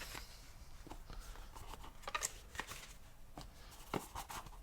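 Paper card pieces for a popping surprise box are folded up by hand, giving soft, close rustles and crisp creases in uneven bursts.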